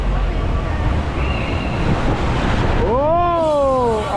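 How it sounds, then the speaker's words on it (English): Water rushes and splashes around a theme park rapids boat ride at SeaWorld Orlando, a loud continuous roar with wind buffeting, and excited voices cry out near the end. "Good rapids this is."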